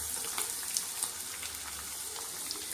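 Sliced onions, two medium ones, sauté in a hot pan with a soft, continuous sizzle and scattered faint crackles, quiet and unbroken throughout.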